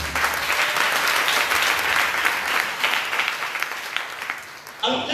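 A church congregation applauding during a worship service, a dense sustained clapping that fills the room throughout and fades slightly near the end.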